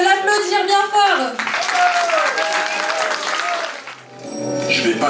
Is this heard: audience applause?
yes